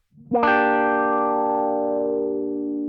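Electric guitar chord through an Electro Harmonix Q-Tron+ envelope filter in low mode, struck once and ringing out with a rich, sustained harmonic tone that decays slowly.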